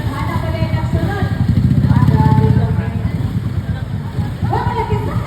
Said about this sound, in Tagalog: May motor man.